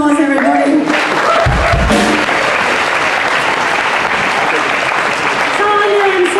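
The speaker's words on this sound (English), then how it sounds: "Give them a round of applause, everybody." Loud, sustained applause from a large audience, dense clapping filling the whole stretch, with some cheering and voices mixed in.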